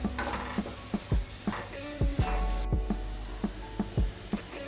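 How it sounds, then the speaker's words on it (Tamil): Masala for Kerala-style fish curry with coconut milk being stirred and sautéed in a pan, a steady sizzle under repeated scraping strokes of a spoon, loud and close. "இதெல்லாமே சேர்த்து ஒன்றா மசாலாவுடைய பச்சை வாசம் போகிற வரை நல்லா வதக்கி எடுத்துக்கோங்க"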